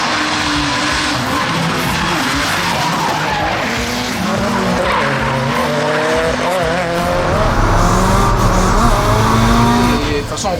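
A Toyota Supra drifts at a CFD drift championship final in Albi, its tires squealing and skidding continuously under a roaring, revving engine, loud and close with no pause.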